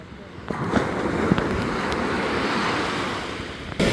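Large ocean waves break on Gokarna beach in a loud, continuous roar of surf with wind rumbling across the microphone, and a fresh rush swells up near the end.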